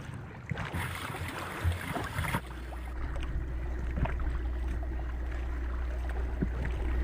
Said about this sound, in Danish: Der er lige 3 store skibe, der er ved at passere os nu.